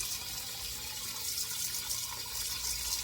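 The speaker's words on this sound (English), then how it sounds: "So I'm about to add my water, and you want to fill the pot up right above" Water runs steadily into a cooking pot holding chicken breasts and leg quarters for chicken and dumplings, a continuous close splashing pour with no talking.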